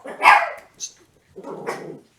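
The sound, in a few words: dogs barking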